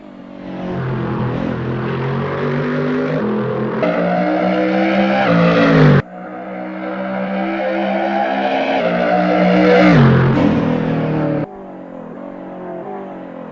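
Race car engine in the Assetto Corsa racing game revving hard and accelerating through the gears, loud and sustained with pitch climbing between shifts and brief drops, no talking.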